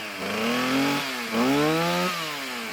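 Chainsaw engine revving in two or three rising and falling bursts, close and loud, during off-grid winter preparation work.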